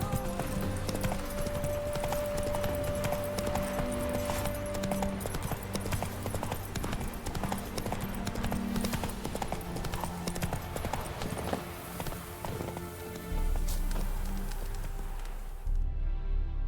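Roach the horse gallops in The Witcher 3, a loud continuous drumming of hooves over game ambience, followed by a short whinny and a heavier thud near the end.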